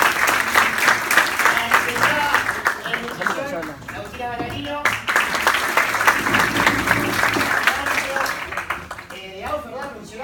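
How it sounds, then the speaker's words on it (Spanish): Loud audience applause for speakers at an awareness event on football violence in Uruguay, sustained clapping with a brief dip midway while a voice announces names over it. "que les pido un fuerte aplauso por estar en acá"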